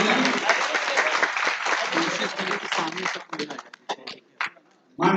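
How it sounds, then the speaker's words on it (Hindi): An audience at the opening session of the Gorakhpur literary festival bursts into loud, dense applause, which thins into a few scattered claps and then fades out. "इनको जोरदार तालियों से अभिनंदन।"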